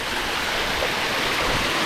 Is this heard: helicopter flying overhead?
no